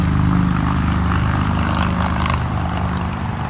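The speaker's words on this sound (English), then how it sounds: "that motorcycle is really loud" A loud motorcycle engine roars past on a street in Fort Worth, a deep, steady rumble that stays strong throughout, with no talking over it.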